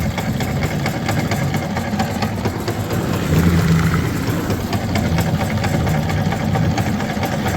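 Outboard motor on a pond weed cutter at Newmill Fishery running steadily through heavy weed that keeps clogging it, a loud continuous low rumbling drone nearby.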